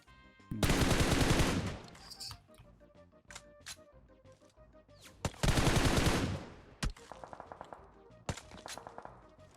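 Bursts of gunfire in PUBG Mobile, two loud sustained automatic volleys separated by quiet gaps with scattered single shots, ending in a quick rapid string of cracks, some sounding close and others distant.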